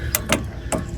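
An Icon brake caliper tool winds back the twisted-design rear brake caliper piston on a 2014 Chevy Impala. Three short, close ratcheting clicks come at a steady rhythm over a faint background.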